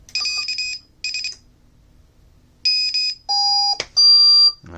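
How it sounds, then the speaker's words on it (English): An FPV wing's onboard buzzer gives repeated loud, piercing electronic beeps in short bursts with pauses between, then sustained tones near the end, standing alone without talk. "Oh, the beeper's gone."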